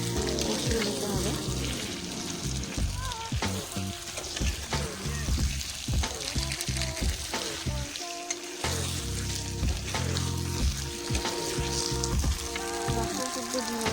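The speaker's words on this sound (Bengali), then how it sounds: "এবার ডিম আর আলু আর মশলা কিন্তু খুব সুন্দরভাবে সময় ধরে গ্যাসের আঁচ একদম কমে রেখে কষিয়ে নিতে হবে।" Eggs, potatoes and spices fry in a pan over low gas heat with a continuous soft crackle and sizzle, with stirring noises and a voice or music over it.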